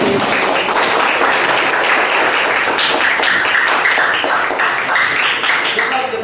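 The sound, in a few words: class applause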